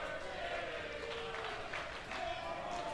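A wrestling crowd in Toronto cheers at a tag team match featuring the Motor City Machine Guns: a dense, continuous roar of many voices, steady and moderately loud throughout with no breaks.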